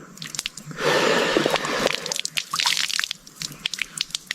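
Liquid pours in a steady rush for about a second, then breaks into scattered close drips and wet squishy splashes in a jungle setting, with no talking.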